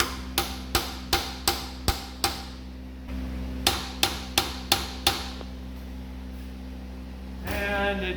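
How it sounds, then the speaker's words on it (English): A hammer drives a steel cross pin into the differential of a Jeep Cherokee XJ's 8.8 rear axle, with about a dozen sharp, ringing metallic strikes in steady bursts and a short pause between groups, over a constant low hum. "I take it with a hammer and I go"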